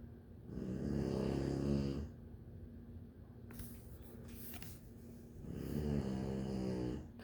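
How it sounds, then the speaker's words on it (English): A small dog snores loudly in two long, rumbling bursts with a quieter breathing stretch between them, close to the microphone. "How can something so little snore so loud?"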